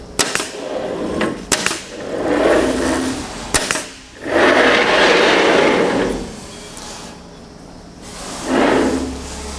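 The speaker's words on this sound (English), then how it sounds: "Pull the staple gun up into position, release the safety, and begin stapling." A pneumatic staple gun fires into a wooden door jamb on a Norfield 440S manual stop stitcher, giving several sharp loud bangs spaced apart, with bursts of air hiss between shots.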